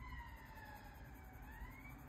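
A police car siren passes outside an open window, its steady wailing tone faint and distant under room noise, rising and falling gently.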